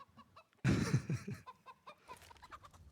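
In Counter-Strike on the Inferno map, a chicken gives a sudden loud burst of squawking clucks, followed by softer scattered clucks and small game noises.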